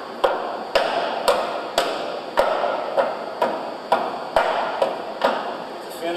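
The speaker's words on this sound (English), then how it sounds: "Once it's in, I'll use the butt end of the hammer." The butt end of a hammer taps a piston cup into a pump cylinder, about a dozen sharp metallic knocks at a steady, unhurried pace, close and distinct, each ringing briefly.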